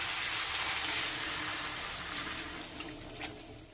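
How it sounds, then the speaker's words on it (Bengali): Water pours steadily into a pan holding bottle gourd, potato and prawns, a continuous splashing hiss that starts loud and tapers slightly toward the end, with no talk. "দিয়ে দেবো চিংড়ি মাছটা, দিয়ে জল দিয়ে দেবো,"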